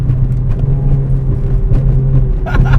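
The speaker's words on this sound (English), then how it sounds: "I love this car, Tom." A Toyota Yaris autocross car with a swapped Corolla engine drives on, its low steady engine drone heard close and loud from inside, with a brief higher rattle near the end.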